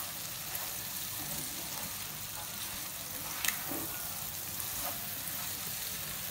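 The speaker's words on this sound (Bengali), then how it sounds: "দেখুন আমার শুটকিটা অনেকটাই ভাজা হয়ে গেছে।" Dried loitta fish fries in a pan with a soft, steady sizzle and a few faint clinks, quiet and continuous.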